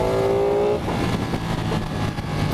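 A 2016 Ducati 959 Panigale motorcycle engine roars loud and close while riding, its steady tone breaking as it shifts up through two gears in quick succession.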